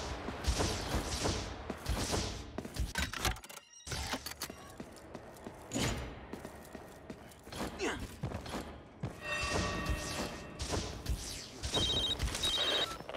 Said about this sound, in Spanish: ¿Un teléfono?